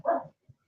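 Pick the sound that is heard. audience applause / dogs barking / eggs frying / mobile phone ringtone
dogs barking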